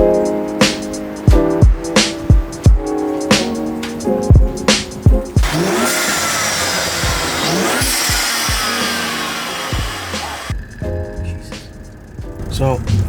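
A BMW on a test drive after its tensioner and pulley were replaced, engine revving and rising over road noise with sharp knocks early on, while people talk throughout.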